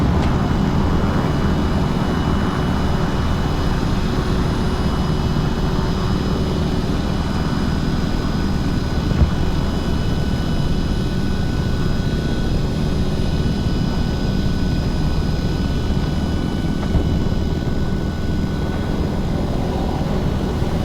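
A helicopter in a military online game hovers with a constant, loud rotor and engine drone that holds unbroken throughout, with no voices.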